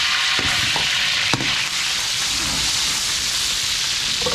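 Garlic sizzling in hot oil in a pan, a steady crackling fry with a couple of sharp pops and stir clatters near the start, close and continuous.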